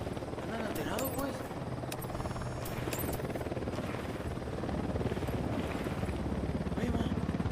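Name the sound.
helicopter in a video game (Ghost Recon)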